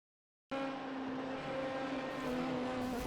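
Race car engine in the iRacing sim revving up under acceleration, a loud, steady high-pitched drone with strong harmonic whine that climbs slightly in pitch, continuous throughout with no talk.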